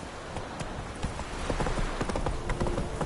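Roach the horse gallops in The Witcher 3, rapid close hoofbeats drumming steadily over a constant ambient wash.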